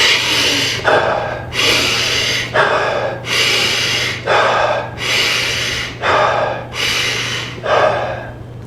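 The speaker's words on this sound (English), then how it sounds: "the breathing is a deep breath in, you release it, deep breath in, you release it" Deep, forceful Wim Hof method breaths repeat in a steady rhythm, each loud rushing inhale followed by a softer exhale, close to the microphone with a low hum behind.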